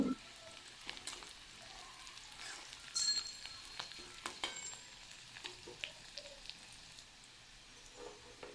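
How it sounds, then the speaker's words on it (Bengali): Oil sizzles steadily as chopped onions fry until reddish-brown, a soft continuous crackle with occasional sharper pops and light stirring, no voices. "পেঁয়াজটাকে আমি লালচে লালচে করে ভেজে নেব"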